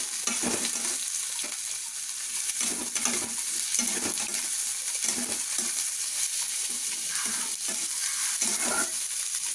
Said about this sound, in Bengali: পেঁয়াজটা আমি 1 মিনিট ভেজে নিয়েছি।